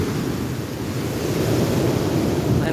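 Big storm-surge waves pounding the Bicol coast by the Tagas Boulevard, a continuous loud roar of crashing surf with heavy wind buffeting the microphone throughout.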